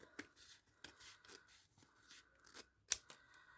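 Scissors snipping through a 3-inch ribbon while making a hair bow, a handful of quiet, crisp cuts spaced irregularly at close range, with no talking.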